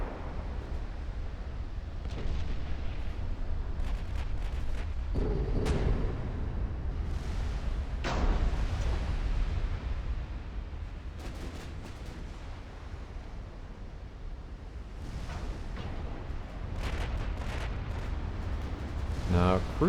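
Battleship main guns firing in the naval strategy game Ultimate Admiral: Dreadnoughts, booming shots and rumbling impacts over a continuous low battle roar, with several distinct blasts spread through.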